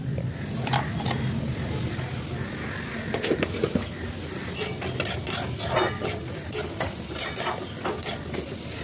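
Carrots, capsicum and beans frying in a wok, a busy sizzle with repeated metal spatula scrapes and clinks as the vegetables are stirred, fairly close and without talking.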